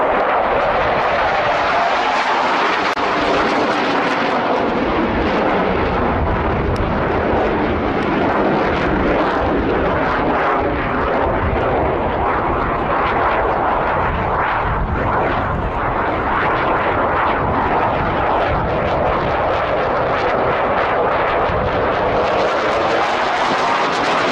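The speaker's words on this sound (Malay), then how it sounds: "Dassault Rafale." A Dassault Rafale fighter jet flies with a loud, continuous roar of broadband engine noise that swells and shifts steadily throughout, with no voices present.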